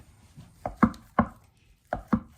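A knife slices down through crab meat into strips on a cutting board, five soft, distinct chopping taps in an uneven rhythm, close and quiet, with no talking.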